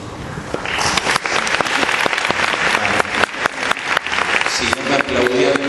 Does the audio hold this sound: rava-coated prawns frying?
no